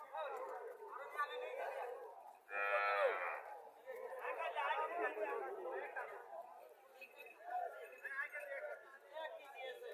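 Friesian calf and other cattle at a village livestock market in Comilla, with steady crowd chatter and bargaining voices throughout and a brief low moo rising above the hubbub.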